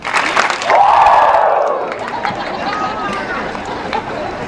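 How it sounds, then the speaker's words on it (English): A large graduation crowd of about 3,000 people at a 2019 high school commencement claps, then lets out a loud, drawn-out collective 'woo' shout. The sound is dense and rising, and it fades into a lingering crowd murmur. "2 claps and a Ric Flair, please."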